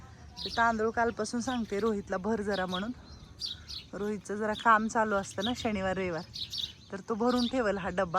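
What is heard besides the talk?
sparrows chirping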